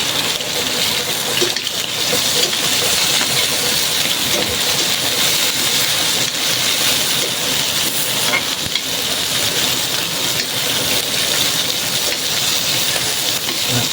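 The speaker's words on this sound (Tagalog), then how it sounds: "Lakas na ulan mga idol." Heavy tropical rain pours steadily during outdoor cooking of a rainy-day viewand dish, a dense continuous hiss of downpour with faint sizzling beneath, loud and unbroken throughout.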